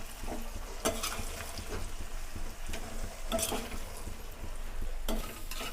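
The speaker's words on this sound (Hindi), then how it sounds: "अब मसालों को मिक्स कर लेते हैं।" Spices being stirred into hot oil for a mixed vegetable pickle, with carrot among the vegetables: a steady sizzle runs throughout, broken by sharp spoon scrapes and clinks against the pan at irregular intervals, close and clear, with no talking.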